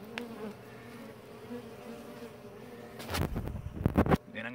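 Bees fly in and out of a hive entrance after its plastic entrance reducer has been removed, a steady close insect buzz droning throughout and swelling louder with busier flight near the end.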